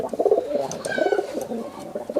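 Giribaz pigeons coo softly and repeatedly at close range, their low, throaty calls rolling on steadily with no speech over them.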